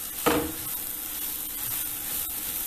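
Chopped eggplant hits a hot pan with a sharp burst of sizzle, then settles into a steady, even frying hiss with faint stirring scrapes.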